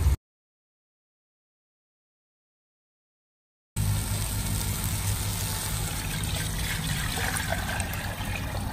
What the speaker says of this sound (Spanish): ¿Qué tanto de agua le pones? Son como 2 litros y medio más o menos